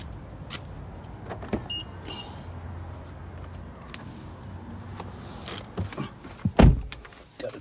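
A rental BMW 330i sunroof opening inside the car, a low steady motor whir under road and cabin noise, ending with a brief louder thump near the end.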